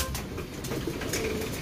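Racing pigeons coo in a loft, soft low murmuring calls continuing under a noisy, cluttered background with no talking.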